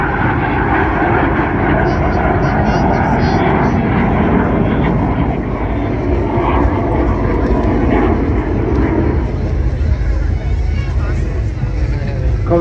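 Red Arrows display jets roaring past overhead at the Blackpool airshow, a steady loud broadband jet rumble filling the whole stretch with faint crowd murmur beneath.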